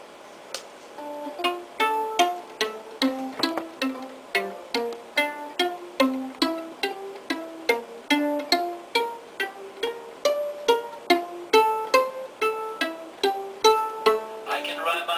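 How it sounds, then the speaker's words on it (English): Plucked violin strings in a steady rhythm, short bright notes stepping through a melody, clear and close with no talking. "now play with a violin, it would sound like this"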